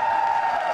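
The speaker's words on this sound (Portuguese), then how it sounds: "palmas pra ele!" A studio audience on the Brazilian TV comedy show A Praça é Nossa breaks into applause, a brief, dense burst of clapping heard close and fairly loud.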